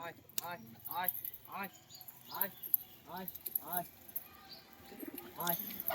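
Pigeons at a home loft coo in a steady series of close, throaty, rolling calls, repeating roughly every half second to second, with light background noise.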